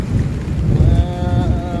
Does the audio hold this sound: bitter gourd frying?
no